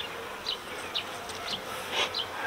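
Honeybees buzz in a hive during an inspection, a dense close hum with individual bees droning past.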